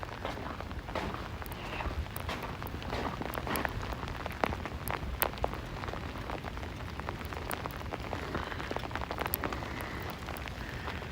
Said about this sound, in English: We're literally having very, very heavy sleet right now.